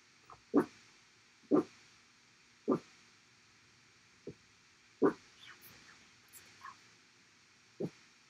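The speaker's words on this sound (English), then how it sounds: "Oh, where you bark? Where you bark?" A dog barks in single short yips spaced about a second apart, six or seven in all, moderately near against a quiet indoor background.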